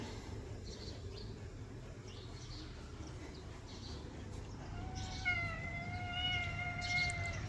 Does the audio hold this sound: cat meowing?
yes